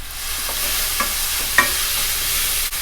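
Tofu and fish fry in a pan with a loud, constant crackling sizzle. A few soft taps of a utensil come through, and one brief dip in the hiss occurs near the end.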